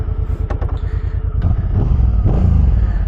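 A 2025 Suzuki Boulevard V-twin motorcycle rumbles close by with a loping, uneven idle, then the engine note swells into a steady, louder drone as the bike pulls away.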